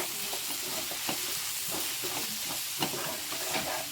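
Okra with red chili powder is stirred in a frying pan: soft, steady sizzling with a series of scraping, clattering strokes from the spatula, fairly quiet and close, with no talking.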